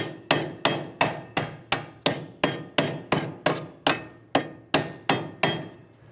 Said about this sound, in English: Using a hammer and a punch, we're going to tap the bolt into place.